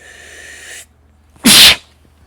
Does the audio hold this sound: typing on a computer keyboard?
no